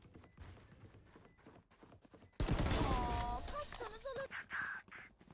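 Gunfire from the shooter game Valorant bursts in loudly partway through, dense and sustained against game sounds, with a voice talking over the first part.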